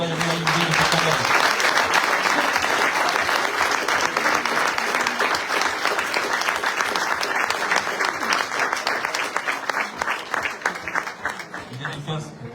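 Applause from an audience at the opening ceremony of a youth event at a municipal stadium, sustained dense clapping lasting over ten seconds and slowly thinning toward the end, with voices faintly mixed in.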